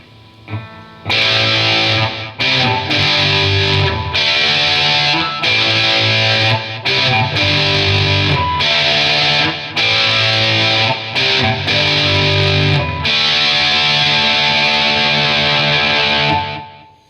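Electric guitar through a Fender Mustang GTX 50 amp plays sustained chords and riffs, washed in reverb with echoing delay trails, loud and continuous after a quiet start.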